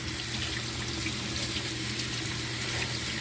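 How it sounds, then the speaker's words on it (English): Canned chickpeas are rinsed in a strainer under a running kitchen tap, giving a steady, close, full hiss of splashing water with no voices. "So I just poured the entire contents into the strainer here to rinse out all of the sodium that was in the can. So we rinse this under water."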